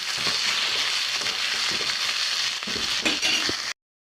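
Ivy gourd fries uncovered in a pan after salt and spice powder are added, giving a steady, close sizzle with a few soft scraping stirs before it cuts off abruptly.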